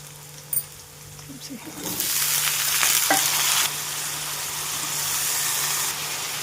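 Tinda (round gourd) tipped into a hot pan of tomato and turmeric, breaking into a loud, sustained sizzle with stir-frying scrapes after a brief clink at the start.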